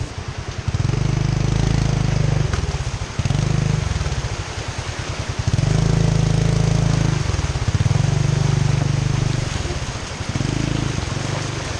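A motorcycle engine rides close by, its steady low drone surging and dipping in repeated waves as it passes through and revs, loud and continuous throughout.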